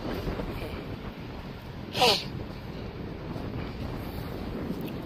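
Strong wind on an outdoor golf course buffets the microphone in a steady broadband rumble throughout, with one brief sharp burst near the middle.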